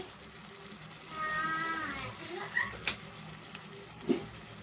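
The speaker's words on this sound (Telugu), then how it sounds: "ఈ మసాలా అంతా కూడా మనం చికెన్ పట్టే వరకు కలుపుకున్నామండి" Chicken stirred in a pan with chili powder and coriander powder for a Sunday chicken curry, giving a steady close sizzle with scraping and a few sharp utensil knocks against the pan, no voices.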